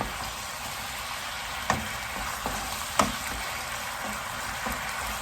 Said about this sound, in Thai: ผัดตอนนี้ปลายังไม่ใส่ผักนะคะปลาจะเคี่ยวให้เข้าเนื้อหมูจนอร่อยอะค่ะ